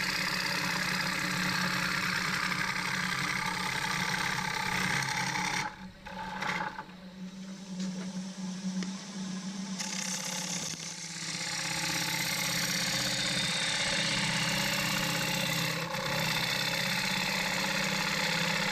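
A wood lathe turning a punky maple bowl, a continuous motor hum with rough scraping of the cutting tool that fades and drops twice as the cut pauses, with no talk.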